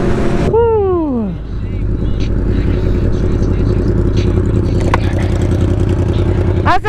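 A motorbike engine revving during wheelies: a high rev slides down sharply at first, then a loud, steady roar of engine and wind runs throughout, with voices partly under it.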